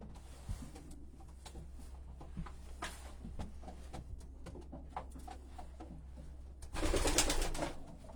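Racing pigeons in a loft coo softly and intermittently up close, mixed with scattered rustles and taps, then a brief louder burst of flapping or shuffling near the end.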